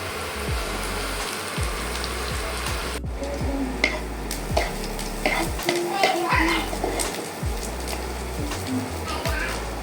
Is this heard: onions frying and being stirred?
yes